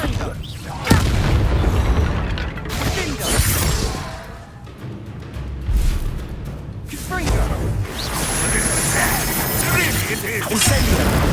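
Repeated Confringo blasting spells detonating in Hogwarts Legacy, booming explosions and crashing impacts landing one after another amid ongoing combat, with voices talking over the action.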